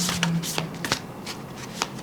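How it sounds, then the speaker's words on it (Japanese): A deck of oracle cards shuffled by hand in short riffling bursts, several crisp flutters spaced across a couple of seconds, close and fairly quiet with no talk. "オラクルカード引いてみますね。"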